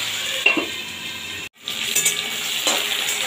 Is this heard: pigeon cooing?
no